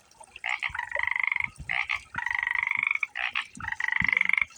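Loud, rapid pulsing frog croaks in repeated bursts along the Pacific Crest Trail, several calls overlapping close by, with brief gaps between choruses and no voices.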